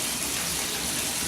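A cup of water is poured over a soapy dog, a brief, loud continuous splashing gush that fills the whole moment without pause.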